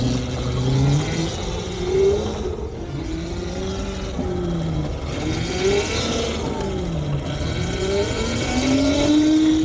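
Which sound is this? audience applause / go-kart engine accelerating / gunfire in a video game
go-kart engine accelerating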